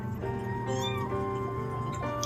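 A rescued kitten meows close by: a drawn-out, high, tonal meow that bends in pitch, with a shorter cry near the end, heard on its own.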